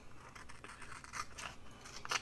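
Scissors snip paper for a journal page extension, a series of faint, close, quick crisp cuts with light scraping between them.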